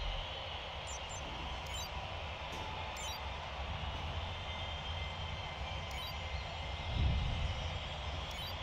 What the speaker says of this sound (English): We've got a drone in the arena flown by an angry spectator.